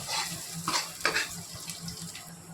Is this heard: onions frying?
yes